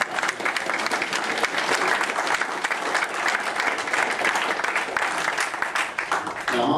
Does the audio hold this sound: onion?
no